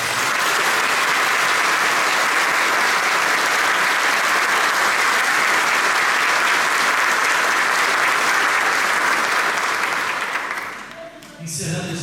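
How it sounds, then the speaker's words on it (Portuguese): A church congregation claps to welcome a family at a pastor's installation service. The applause is loud, dense and sustained for about ten seconds, then fades out. "quem sabe acolham essa família com a salva de palmas, dizendo: sejam bem-vindos aqui"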